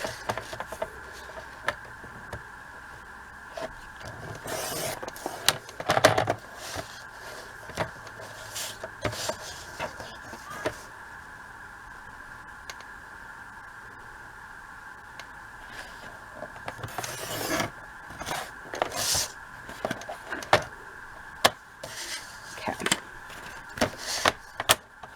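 A die cutting machine presses through a 5 by 7 cardstock panel, giving a steady mechanical hum broken by scattered crunching clicks and louder bursts as the card feeds through, close and alone.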